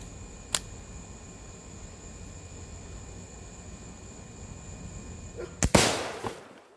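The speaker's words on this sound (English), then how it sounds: "And we're just gonna shoot that bad boy." An air pistol fires at a plastic Clorox bottle: one sharp crack early, then a louder burst of two close impacts near the end that fades out over a faint background hum.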